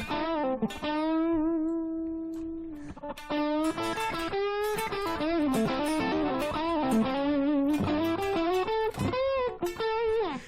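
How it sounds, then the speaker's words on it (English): An electric guitar runs through a fuzz distortion tone from POD Farm and Guitar Rig 5 amp software, playing loud, sustained notes and bends in a bluesy lead line with no talking. "gain is going to be the one that gives you the distortion that you're looking for"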